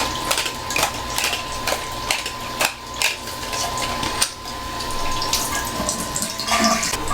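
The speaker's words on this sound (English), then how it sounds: "at this point we're going to give it a nice water rinse" Running water at 100 degrees is used to rinse photographic film during developing. The flow is steady and close, broken by several sharp knocks and splashes, with no talking.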